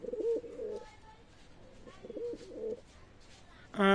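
Pakistani high-flyer Teddy pigeons coo in a few soft, low bursts at moderate distance, with quiet background noise and a brief louder sound at the very end.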